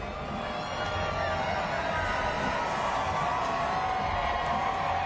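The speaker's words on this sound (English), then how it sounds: "You can hear that crowd going absolutely nuts" A large crowd at a championship parade in downtown Oklahoma City roars continuously in the distance, a dense, even wash of cheering with no clear individual voices and no letup.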